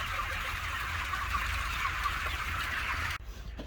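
Chickens clucking inside a poultry house on a farm, a dense chorus of close, overlapping clucks over a low ventilation hum before the sound cuts away near the end.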